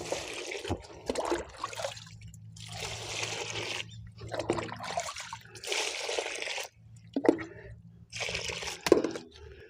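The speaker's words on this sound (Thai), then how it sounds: "พอเทน้ำใส่ ถัง นะครับพอประมาณนะครับ ให้ท่วม" Water pours and trickles in several bursts with short pauses between them, splashing into a bucket at close range.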